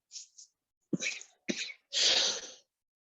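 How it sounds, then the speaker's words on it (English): A few short, sharp coughs in quick succession, close by, ending with a longer harsh cough. "I've got smoker's cough."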